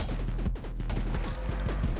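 Rapid clusters of small popping blasts and crunchy impacts in the game 20 Minutes Till Dawn, dense and continuous over a low rumbling game soundscape, fairly loud and close.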